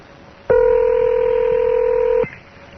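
A single sustained touch-tone telephone keypad beep sounds loud and close for nearly two seconds over faint background hiss, with no talk.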